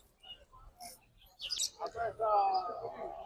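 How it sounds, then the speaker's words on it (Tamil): Lovebirds at a bird market in Saudi Arabia let out a few quick, high chirps, followed by louder chattering calls close by, while a person speaks briefly. "லவ் பேர்ட்ஸோட வேலை என்னன்னு கேட்டு வரேன் இருங்க"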